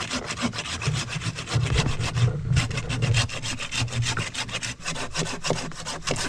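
Hand saw cutting through wood at a riverside campsite, a steady back-and-forth rasp of strokes close by with no talking.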